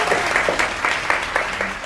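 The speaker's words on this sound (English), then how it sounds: "Ladies, please clap." A small group of women clapping together at a casual gathering, a brief burst of fairly quick, close applause with a lively rhythm and no clear talk over it.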